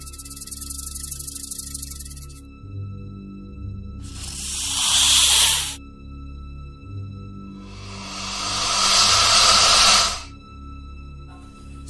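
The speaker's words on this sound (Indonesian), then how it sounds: "dia mendengar suara desisan ular yang sangat kencang" A loud snake hiss sound effect plays in three long, breathy bursts of increasing length over a low droning background.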